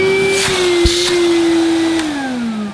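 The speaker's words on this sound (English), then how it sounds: "And for a budget cleaner, it's not a bad sound, is it?" A 1986 British-made Hoover Spirit budget vacuum cleaner runs close by, a steady high motor whine holding its pitch with a few brief bumps, then winding down slightly at the end.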